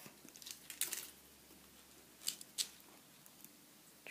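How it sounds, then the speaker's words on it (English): Excess wire is snipped off while making a bar necklace: a few crisp, close cutter snips, one near the start and two close together later, set between quiet handling rustles. "I'll trim that bit of wire off"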